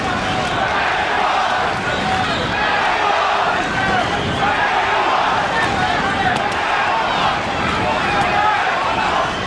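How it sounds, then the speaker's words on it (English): A boxing arena crowd roars and chants for a Mexican fighter, a loud, dense, rhythmic mass of voices under busy commentary. "Crowd chanting Mexico, Mexico, trying to lift Chavez up."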